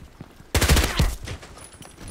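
An MP5k fires a sudden, rapid burst of automatic gunfire in the Contract Wars shooter game, loud and sharp, fading into a quiet tail.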